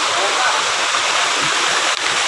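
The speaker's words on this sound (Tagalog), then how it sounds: "At ayan na nga, nandito na tayo sa may falls" Steady broadband rush of a small jungle waterfall with little water flowing, a close, continuous wash of falling water that stays even throughout.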